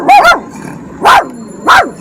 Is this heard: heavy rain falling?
no